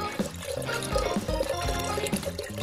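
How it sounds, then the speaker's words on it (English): Water pouring into a fish tank being set up for a photo shoot, a steady splashing, gurgling fill heard close and fairly loud, with music or background tones running underneath. "Fill it with water!"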